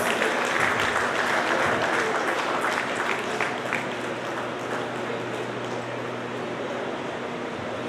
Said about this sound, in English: Please give a round of applause for all the Leos